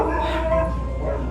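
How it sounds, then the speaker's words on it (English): A pet dog barks and yips indoors in a home kitchen, with short, moderately loud vocal bursts over a steady low background hum. "there's my dog. She heard something."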